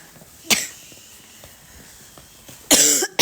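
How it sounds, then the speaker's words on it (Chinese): Two sharp coughs from a person with a cold and sore throat, a short one early and a louder, harsher burst near the end, close to the mic in an otherwise quiet room. "咳嗽的来了"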